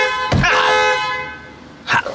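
A car horn blares a sustained, loud tone, then two short sharp honks follow near the end, close by and alone.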